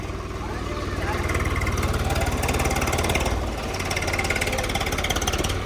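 A tractor engine idles close by with a steady, rhythmic low chugging rumble, while voices talk over it.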